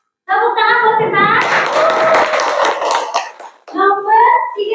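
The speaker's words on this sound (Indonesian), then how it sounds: "Tepuk tangan buat Sinta." Brief burst of a class of children clapping their hands in a classroom, loud for about two seconds between a teacher's spoken words before and after.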